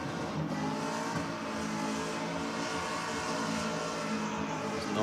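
A race car engine holds high revs during a skid on a pad at a Race 4 Real event, a steady droning roar heard from a distance that swells slightly toward the end.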